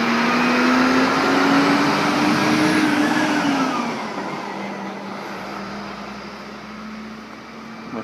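A truck drives past a motorcycle workshop, a broad, steady roar that holds loud for a few seconds and then eases off as it moves away, with no talking.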